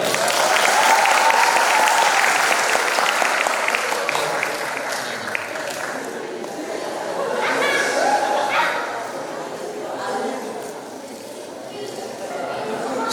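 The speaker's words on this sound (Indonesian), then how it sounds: "tepuk tangan dulu dong" Students at an Islamic boarding school lecture applauding, with loud clapping at first that fades into lighter scattered claps under murmuring voices and some chatter.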